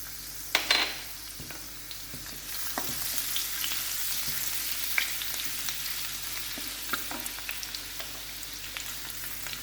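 Cumin seeds and crushed garlic frying in hot oil give a steady close sizzle with crackles and pops, brightest in the first seconds and then settling into a continuous hiss.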